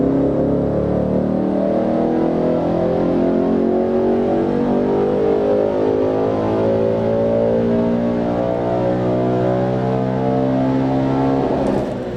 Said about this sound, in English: There's not many V8s that scream right at the top end.